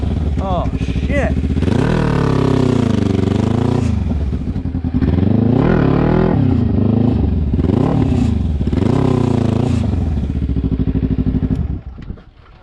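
A racing lawnmower capable of over 80 mph revs hard and close, its engine climbing and falling in pitch through several loud surges before cutting off abruptly at the end.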